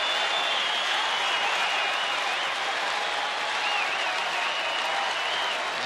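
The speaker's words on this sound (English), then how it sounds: "They start the rhythmic clap." Baseball fans on their feet in a Texas stadium during a Seattle at Texas game, crowd noise and clapping washing steadily through the ballpark, broad and continuous rather than sharply rhythmic.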